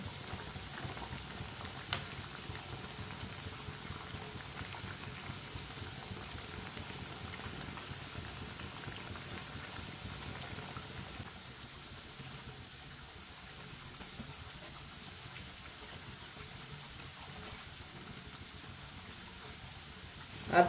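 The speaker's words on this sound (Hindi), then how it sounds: "आप इसी तरह से घुमाते फिराते पका लेंगे।" Potato tikki frying in oil in a pan, giving a steady, even sizzle and bubbling that runs unbroken throughout at moderate volume.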